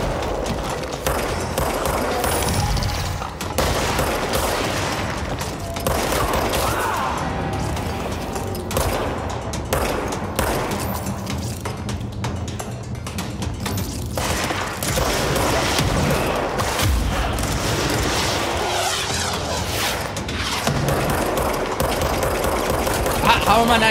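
Dense gunfire bursts and rapid shots from the video game Control, continuous and loud throughout with overlapping game effects and speech mixed in.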